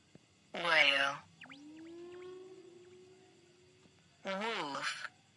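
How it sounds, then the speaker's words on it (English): A whale's long, rising tonal call stretches out between two short bursts of speech, moderately loud and clear. "Whale."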